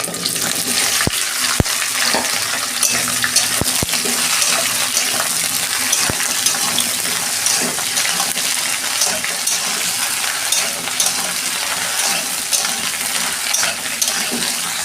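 About 600 g of whole okra fries in oil in a wok over a low gas flame. It makes a loud, dense, unbroken hiss with a few sharp clicks of stirring scattered through, and nobody speaks.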